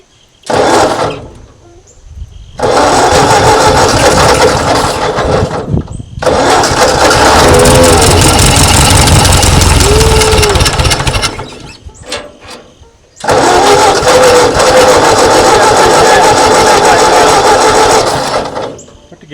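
A 1939 Ford tractor that sat in a field for over twenty years is cranked in three loud, long bursts of a harsh, buzzing starter-and-engine roar, separated by short quiet gaps, close to the listener with faint talk between bursts.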